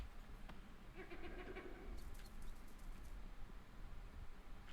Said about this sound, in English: It's a goat. I hear a goat.